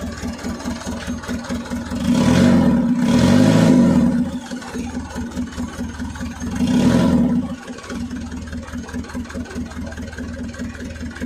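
Mitsubishi Canter 125PS diesel truck engine, badly tuned and running hot, idling loudly up close, then revving in two surges as the throttle is pressed before settling back to a rough idle.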